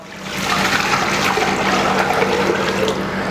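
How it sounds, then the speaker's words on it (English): Water pours steadily into a cooking pot holding rice for a veal cheek ouzi dish, a loud, close, continuous splashing gush lasting a few seconds with no talking. "In goes the water."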